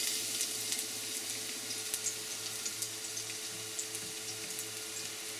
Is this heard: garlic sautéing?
yes